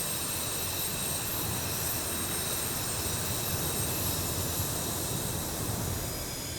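A jet aircraft engine whines and rumbles steadily as the plane taxis toward the runway in the DCS flight simulator game, a continuous even roar with a high whine on top and no talking.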